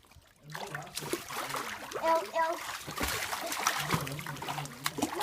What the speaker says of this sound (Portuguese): Agora é natação de qualquer jeito.